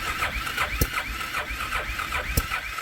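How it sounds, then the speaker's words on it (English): A cold engine cranks on a winter morning while someone works the gas, its uneven mechanical chugging steady throughout with two sharp louder bursts as it tries to catch, close and fairly loud. "Oh, I might have to give gas while I'm cranking."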